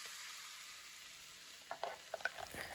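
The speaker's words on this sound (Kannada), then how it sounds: "ಇದಕ್ಕೆ ನಾವು ಆಗಲೇ ರುಬ್ಬಿಟ್ಕೊಂಡಿರೋ ಸೊಪ್ಪು ಬೇಳೆ ಹಾಕಿ ಹುರ್ಕೋಬೇಕು" Ground greens and lentils are added to a hot tempering of dried red chillies: a steady hiss of frying, then a few soft scraping stir strokes near the end, quiet and without voices.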